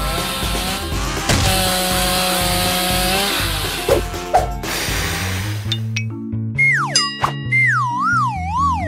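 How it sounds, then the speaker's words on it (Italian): An electric saw cuts through a giant hamburger with a loud buzzing, grinding drone for several seconds, then gives way to bouncy cartoon boing tones. "Ma certo, una sega elettrica."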